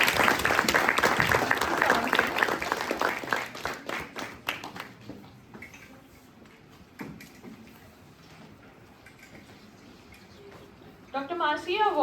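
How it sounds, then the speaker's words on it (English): Audience applause welcoming Dr. Marcia Waran at a medical college event, loud clapping that thins into scattered claps and fades to quiet room tone, with a few late claps and a voice returning at the end. "Please welcome her with a big round of applause."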